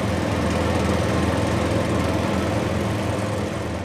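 Heavy truck engine laboring uphill under the load of a 100-ton Liebherr R 984 excavator, a continuous loud, dense rumbling drone that holds steady throughout.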